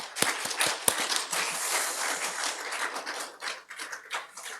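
A church congregation claps together in praise, a close, fairly loud burst of hand claps with a few sharp individual claps standing out at first, settling into a steady patter that thins toward the end.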